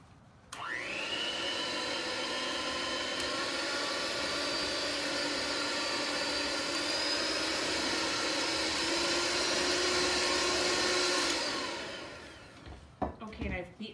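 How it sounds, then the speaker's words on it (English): An electric mixer beats a mint pie filling made with vanilla and mint flavorings, holding a continuous high whirring drone for about eleven seconds before it shuts off. The mixer runs loud and near, with faint speech at the very end. "I've beaten that up until it's really smooth."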